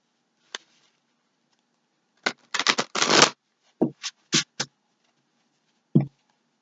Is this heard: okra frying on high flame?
no